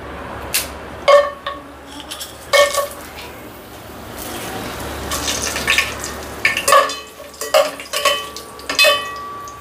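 Whole garam masala spices dropped into hot oil in a pot for vegetable biryani, heard as a soft crackling sizzle punctuated by clinks and scrapes of a spoon against the metal pot.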